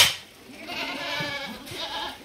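A Gujari breed goat bleats at a farm in Ajmer, Rajasthan, giving a few soft, wavering calls close by with faint farmyard noise behind and no talk over it.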